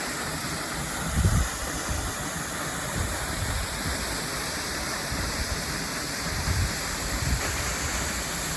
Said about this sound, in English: This is Drake Falls. It's only 27 feet vertical elevation.